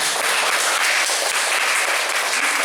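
An audience at the seventh anniversary gathering of the Bali Berbagi community applauds Pak Dede Parwade, a loud, dense, continuous burst of many hands clapping up close.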